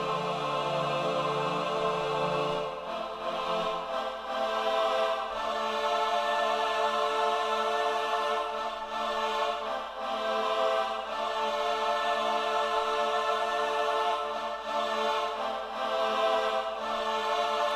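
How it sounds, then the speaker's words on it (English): Choir pads layered over a beat in a hip-hop production, dense sustained vocal chords running continuously at a steady, full level with no talking. "whenever I added my choir, sounds like this."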